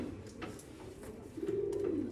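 Soft pigeon cooing, a low, throaty warble that swells near the end over a faint, quiet background.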